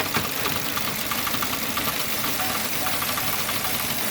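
A GM Chevy 1.5 engine idles after a misfire fuel rail repair, giving a steady, close mechanical rumble with faint ticking and a broad hiss throughout.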